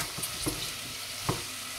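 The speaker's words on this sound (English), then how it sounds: "Add the onion and garlic and heat" Onion and garlic sizzle in a hot pan for paleo burritos, with a steady crackling hiss and a few scraping stirs of a utensil, close and moderately loud, no talking.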